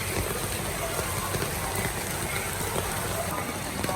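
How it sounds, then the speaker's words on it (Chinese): Heavy rain pours down in an urban village street, a dense, continuous hiss of rainfall on the surfaces around, close and steady, with some voices faintly under it. "雨下的实在太大了"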